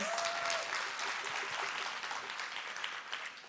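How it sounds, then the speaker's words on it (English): A conference audience at a professional development institute applauds a parenting-session speaker with dense, continuous clapping throughout, fairly loud and steady, with a brief tonal sound near the start. "So give her another round of applause."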